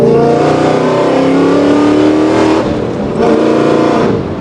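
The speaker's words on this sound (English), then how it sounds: "that Valtronics exhaust just sounds fantastic" A 2024 Ford Mustang GT Nite Pony with an 800 hp V8 and Valtronics exhaust revs hard and loud up close, a sustained rising engine roar with a brief dip before climbing again.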